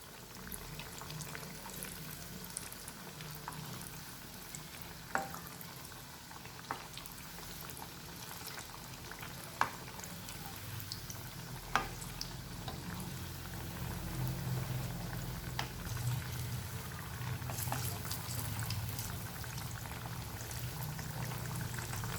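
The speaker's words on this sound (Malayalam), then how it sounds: "ഇനി ഇത് നന്നായിട്ടൊന്ന് ഫ്രൈ ചെയ്തെടുക്കാം." Banana fritters (pazham pori) frying in hot oil, a steady low bubbling and crackle with occasional sharper pops, fairly quiet and continuous, swelling slightly toward the end.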